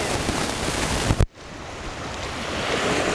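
Ocean waves crashing on a shore, a dense broadband wash of surf that drops out abruptly for a moment before the steady roar returns, loud and close with wind noise on the microphone.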